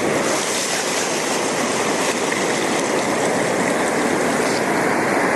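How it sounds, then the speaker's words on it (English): Ocean surf at Calangute Beach in Goa, a steady, loud broadband wash of breaking waves and foaming water that rolls on without pause through the whole stretch, with no voices. "Okay, here comes the wave."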